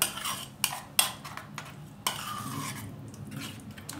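A spoon mashes avocado into a paste in a bowl, making a few sharp clinks against the dish followed by soft, wet squishing and scraping at close range, with no talking.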